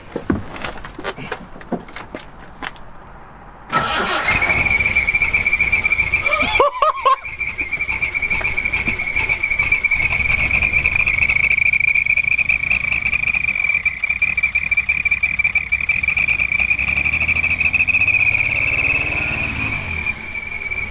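A car engine with whistles fitted in the exhaust runs steadily, straining, with a loud, sustained high-pitched whistle over it, starting abruptly and holding for most of the clip.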